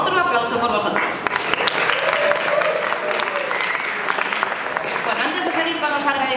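Audience applause at a live presentation event, a dense steady clapping that fills the whole stretch, with a voice speaking over it.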